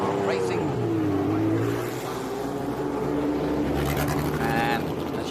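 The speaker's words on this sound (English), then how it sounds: "we've got a mix of Chevrons and Porsches and Lotus" Vintage 1962–72 Chevron, Porsche and Lotus prototype and sports racing cars roar past at Laguna Seca, engines loud and close with a rising and falling pitch as they pass, while a commentator talks over them.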